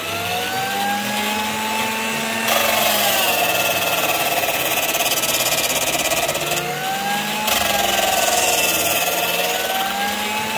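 A portable drill driving a DIY lathe whines continuously at high speed, its pitch shifting as the load changes, with a loud steady mechanical drone throughout.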